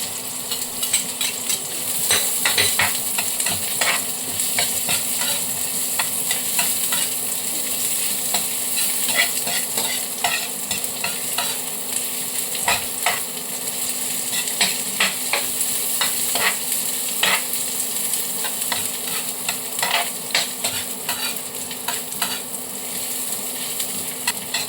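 Ginger sautés in a pan for ginisang tahong, a Filipino mussel dish, with a steady crackling sizzle and a constant low hum behind it. Frequent scraping and clinking stir strokes run throughout, with no talking.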